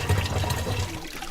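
Fresh water running from a village borehole supply below a mountain in rural Rwanda, a steady low rushing flow close by, fading slightly toward the end.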